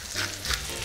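Carp pieces sizzling in a hot frying pan, a steady close crackle with brief louder spits, no voices present.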